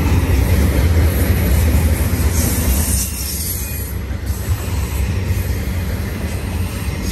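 An eastbound BNSF intermodal train carrying international containers rolls past at Rana, California, a continuous loud rumble of wheels and wagons with a faint high squeal, close to the tracks.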